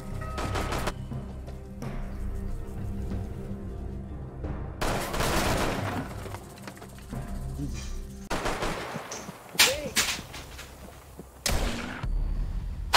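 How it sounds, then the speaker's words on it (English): Bursts of game gunfire, some rapid automatic volleys and sharp single shots, crack out in irregular clusters over a background of muffled ambient noise. "Gunshots rang out."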